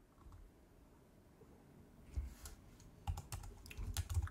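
A password is typed on a computer keyboard during an Arch Linux install: quiet at first, then a run of close, crisp keystrokes and clicks that grows denser toward the end.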